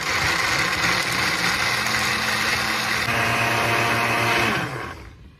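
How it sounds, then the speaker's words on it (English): Old Dominion blender blending powdered goat milk, a loud steady motor whir with a gritty high-pitched edge held for about four seconds before spinning down and cutting off, no talk. "we put it in the blender and then we blend it up."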